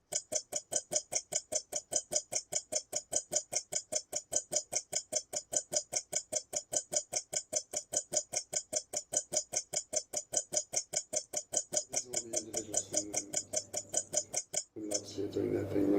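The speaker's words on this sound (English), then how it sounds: "Let's start with the sound of a clock ticking." Steady, evenly spaced clock ticks repeating for about fifteen seconds, crisp and close, before the ticking stops and other noise takes over at the end.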